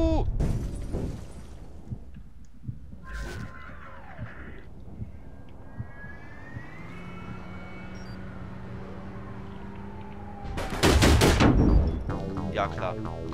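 Gunfire in the online game APB Reloaded: scattered shots and impacts through a noisy city scene, with a loud burst of rapid firing near the end, while a voice talks at the start.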